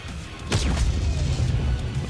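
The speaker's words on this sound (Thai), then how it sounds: "เสียงปืนนี่" A tank cannon fires in the World of Tanks video game: one sharp, loud blast followed by a sustained low rumbling roar that lingers to the end.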